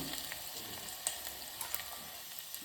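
A sprig of curry leaves fries in hot oil for a soya chunks curry, giving a faint, steady sizzle with a few small crackles and no voices.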